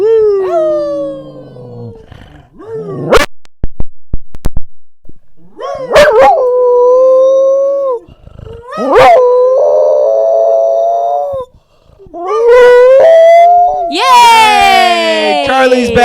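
Charlie the dog howls loudly and close, in several long, wavering, rising howls broken by short gaps and a few sharp barks, finishing with a high, strained cry.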